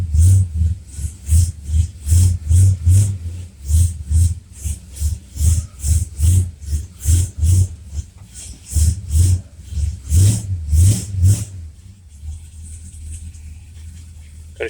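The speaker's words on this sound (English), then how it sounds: "so we're going to start it up now and pump that first fill of power steering fluid through the power steering system" A Mopar car engine runs to pump the first fill of fluid through a power steering system with a Federal-style pump. It gives a loud, rhythmic, pulsing chug that throbs steadily, then drops to a quieter idle near the end.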